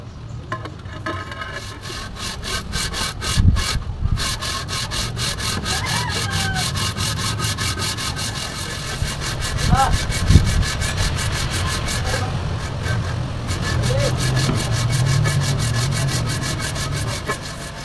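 Steady rhythmic rasping of sandpaper scraping the iron engine block of a Toyota Land Cruiser 1HD-T engine, continuing for a long stretch with brief pauses, close and fairly loud over a low hum.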